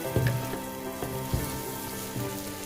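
Twice-cooked pork and garlic leaves sizzle and fry in a wok, a steady close crackle broken by a few sharp clanks of stirring at intervals.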